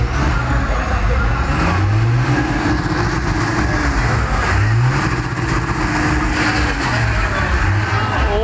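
Mitsubishi 6M60 truck engine revving inside a repair workshop, loud and close, with the engine note rising and falling through several throttle blips over a constant rumble.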